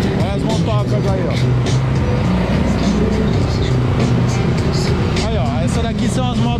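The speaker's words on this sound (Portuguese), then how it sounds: "Olha as motocas aí, ó." Children's motorcycles ride around at a dealership, their small engines running continuously and fairly loud while people talk nearby.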